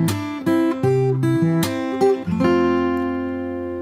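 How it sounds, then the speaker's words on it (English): Fingerstyle acoustic guitar plays the pre-chorus of a song, with plucked bass and chord notes and percussive body slaps on beats two and four, close and loud with no voice. "So we've got the slaps. They're on the 2nd and the 4th beat of each bar."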